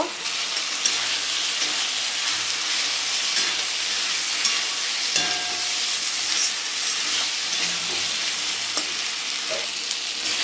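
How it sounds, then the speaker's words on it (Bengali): Potatoes fry in a spiced rohu fish curry masala, giving a loud, continuous sizzle with faint clinks of stirring now and then and no talking. "আলুগুলো দিয়ে দেব। আলুগুলো দিয়ে আরও কষে নেব।"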